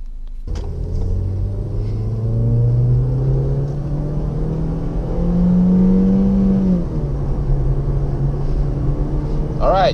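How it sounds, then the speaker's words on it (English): A 2016 Ford Fiesta S with a 1.6-liter four-cylinder drives on the road, its engine a low, steady rumble inside the cabin that rises and falls gently as it accelerates through gears. "jump inside again and see how the Ford Fiesta does on the road"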